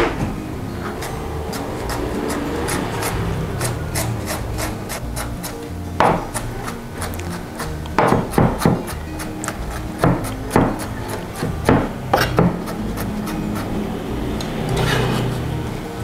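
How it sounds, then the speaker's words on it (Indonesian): A knife chops garlic on a wooden cutting board for a cireng snack, sharp rhythmic taps coming in irregular clusters, close and fairly loud with no talking. "Selanjutnya kita mau cincang-cincang bawang putih."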